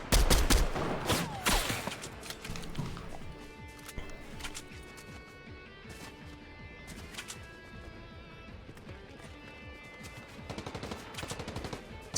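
Video game gunfire during an online tournament match: loud, rapid bursts and single shots crack close at the start, then continue as scattered, fainter pops and rattles over a steady in-game background.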